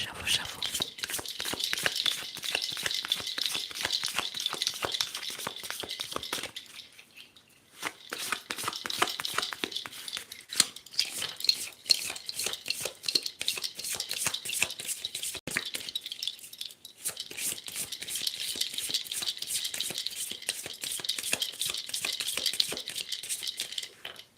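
Tarot cards riffle and shuffle in quick, papery bursts, close by, in three long runs separated by brief pauses, with faint whispering at times.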